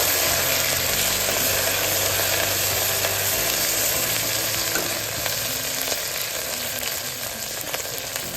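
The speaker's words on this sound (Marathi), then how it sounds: "आता आपण आलं लसूण पेस्ट घालून घेऊया। छान आता मिक्स करून घेऊया।" Onion frying in a pan with ginger-garlic paste being added and stirred in, a steady loud sizzle with scraping stir sounds throughout, no talking.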